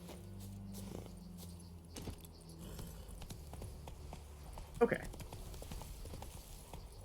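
Hooves of the horse Roach clip-clopping at a walk in The Witcher 3, a soft steady rhythm under game ambience, with someone speaking briefly over it.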